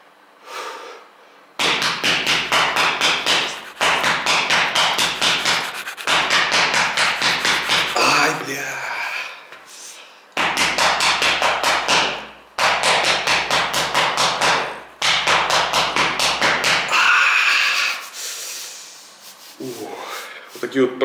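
Rapid rhythmic percussive slapping strikes land on a body during a massage exercise in several long bursts separated by brief pauses, loud and close.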